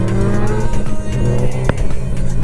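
Motorcycle engine droning steadily while riding near Noordwijk on a Dutch group ride-out, with one sharp exhaust pop or bang standing out partway through over the continuous engine and wind noise.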